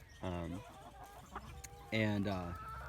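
Chickens raised on a farm pasture cluck close by in two clear bursts of rising, stuttering calls, separated by a quieter stretch of faint farmyard sound.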